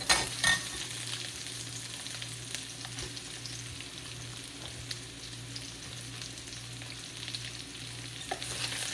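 Garlic and onion fry in hot oil in a pan for street-style veg Hakka noodles, a continuous close sizzle with faint stirring scrapes and a couple of brief clinks, no talking.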